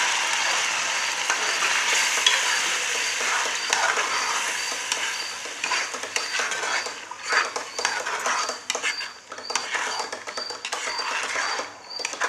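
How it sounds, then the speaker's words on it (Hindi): Mutton karahi with tomato paste frying in a pan on low flame, a steady soft sizzle with intermittent scraping and clinks of a spoon stirring, close and continuous. "इसको लो फ्लेम पे भूनते जाएंगे, चीज़ें इसमें ऐड करते जाएंगे।"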